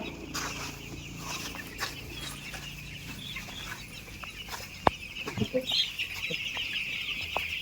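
Chickens cluck softly and continuously in a crowded poultry-farm shed, scattered calls near and far, with a few sharp knocks and rustles.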